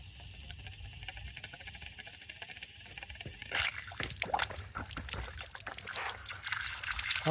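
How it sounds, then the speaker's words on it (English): Water from a garden hose rushes through a pressure washer after a clog is flushed out. A quiet trickle gives way to a louder, splashing flow about halfway through and keeps running steadily nearby. "so we definitely have water coming through there"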